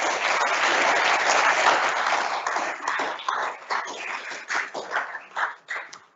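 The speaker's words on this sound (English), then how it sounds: "let's give them an applause." An audience applauds at the end of a talk at a university event, with dense, steady clapping for about four seconds that thins into scattered, separate claps before fading.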